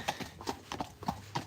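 Hooves of a black Friesian horse clip-clopping at a steady, quickening walk on a horse walker, close and distinct with a regular rhythm.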